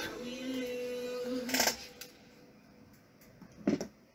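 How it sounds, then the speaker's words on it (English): Sterling silver wire being cut off a small wire-wrapped moonstone pendant: two sharp, close snips about two seconds apart over a quiet background with a faint hum. "now that I have it like this, I'm going to cut it right off."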